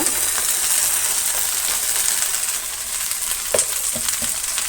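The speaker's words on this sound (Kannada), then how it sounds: "ಈಗ ನಾವು ಬೆಂಡೆಕಾಯಿ ಕಟ್ ಮಾಡಿರೋದನ್ನು ಸೇರಿಸೋಣ." Cut okra (ladies finger) and onions fry in a pan for gojju, a steady loud sizzle throughout with a few sharp clinks of a utensil against the pan near the end.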